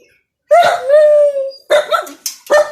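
A dog lets out a drawn-out, whining bark followed by a few shorter yips and barks, close and loud, during heavy rain.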